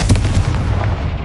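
A blasting spell from a Harry Potter video game lets off a loud, deep, rumbling explosion, a short dense burst with crackling texture that stays close and forceful throughout.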